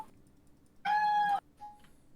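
A single cat meow, about half a second long and fairly loud, with a faint short second call just after, heard over a quiet background during a tabletop game session.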